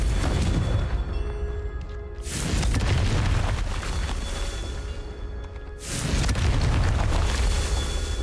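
In Hogwarts Legacy, Confringo explosion spells blast something apart during a Merlin trial. Two loud, booming, rumbling bursts are heard, each trailing off into a long roar, with no talking.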